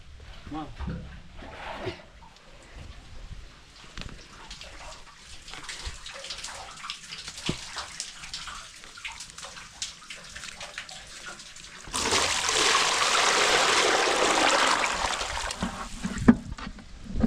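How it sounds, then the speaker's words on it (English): Clothes washed by hand in water in a village compound, with splashing and sloshing, then a steady rush of pouring or running water, while a person talks. "now washing the clothes"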